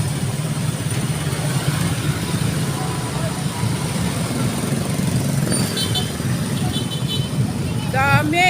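A political caravan of cars and buses rumbles past a roadside store on a bypass road in Pangasinan. A continuous engine and traffic drone runs throughout, with voices mixed in and a brief horn-like tone near the end.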